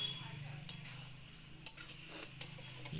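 Chicken curry masala with potatoes and green chillies being stirred and sautéed in a pan, with a low steady sizzle under repeated scraping clinks of a spoon against metal, close and fairly quiet.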